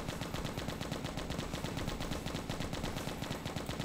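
Rapid machine gun fire in the zombie shooter game Left to Survive, a continuous rattling burst of shots lasting several seconds, loud and steady with no talking.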